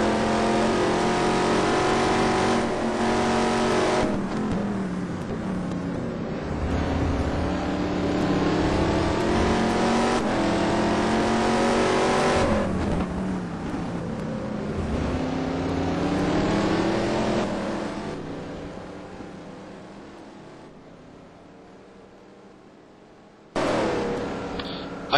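GT race cars lapping Donington racetrack during a GTPro race, with an onboard engine howling loudly through repeated rising and falling revs. The engine drops off near the end before a sudden brief burst of noise.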